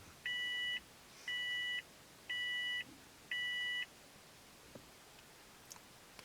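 A small electronic device plugged into a Honda CR-V's cigarette lighter boots up with four evenly spaced, clear beeps, each about half a second long, followed by quiet near-silence.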